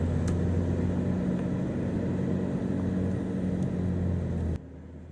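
Off-road vehicle rolling downhill without braking, a steady low engine rumble with light rattles throughout, cutting off abruptly near the end.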